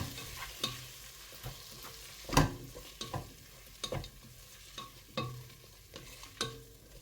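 Chopped tomatoes stirred in a pan during a beef keema rice dish, soft scraping strokes at a steady pace over a faint sizzle, close and quiet with no talk.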